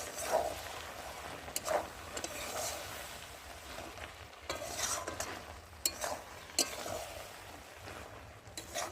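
Bombay duck (lote fish) and Malabar spinach curry, cooking in its own liquid, is stirred in a pan with quiet, repeated scraping strokes over a faint simmering sizzle.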